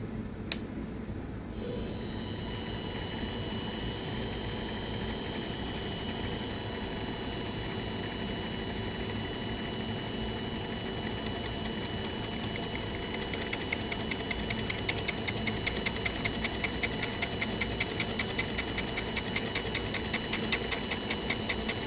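A machine takes a light cut on a Sig Sauer MCX Rattler handguard. A steady mechanical hum and drone runs throughout, joined partway by a rapid, even chattering clatter that is fairly close and continuous, with no voices.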